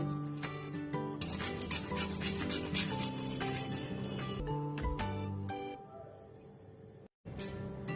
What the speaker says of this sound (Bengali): এই জায়ফলটা আমি ঘষুনি দিয়ে ঘষে দিয়ে দেবো।